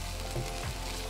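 Chicken with ginger and garlic frying in a pan, a soft steady sizzle with a couple of brief stirring bumps, faint and close, no talk.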